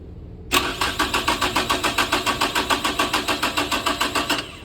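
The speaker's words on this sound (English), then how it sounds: "We try to start the car." A car engine cranks on the starter during a crankshaft and camshaft sensor test, with a sharp onset and then about twenty even, rhythmic cranking pulses that run steadily for four seconds, close and without voices.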